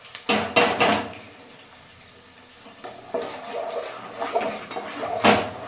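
Biryani being stirred and mixed in a pot with a metal spoon, producing scraping and clanking bursts in a few uneven strokes, close and fairly loud, with no talking.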